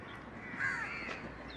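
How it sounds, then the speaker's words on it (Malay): A crow gives a single clear caw at moderate distance, heard over a steady outdoor background hum. "Gagak."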